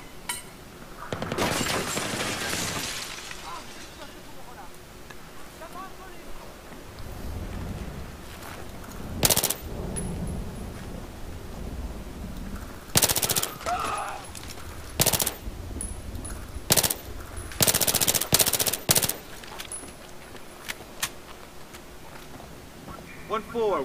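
Heavy automatic gunfire and single shots in the Battlefield 3 single-player campaign, loud bursts arriving in irregular clusters with glassy clinks between them, a voice shouting over the combat.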